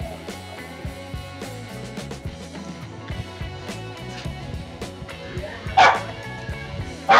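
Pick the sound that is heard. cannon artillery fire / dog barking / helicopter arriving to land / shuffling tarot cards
dog barking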